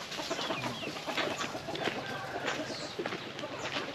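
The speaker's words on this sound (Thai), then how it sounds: "เป็ดไก่หลายพี่น้องเนาะเป็ดไก่เตะกันอยู่บนนี้" Chickens and ducks scuffle and kick at each other up on a perch in a rural Lao-area village, with busy, close clucking and squawking that comes in quick overlapping bursts.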